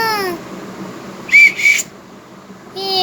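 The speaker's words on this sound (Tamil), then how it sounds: "ஒரு விசில் கொடுத்துருக்காங்க." A toy whistle from a birthday party goody bag gives two short shrill blasts close by, with a brief pause between them, alone against a quiet background.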